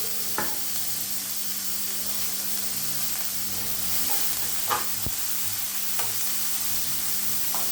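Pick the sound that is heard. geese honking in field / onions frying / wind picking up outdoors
onions frying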